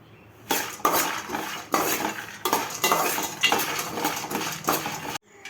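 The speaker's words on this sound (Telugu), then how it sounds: "ఇలా లో ఫ్లేమ్లో వేయించేసుకోవచ్చు." Dry fruit powder roasted over a low flame in a pan, a spoon scraping and stirring steadily with repeated metallic clinks and gritty rustling, close and continuous without any talk.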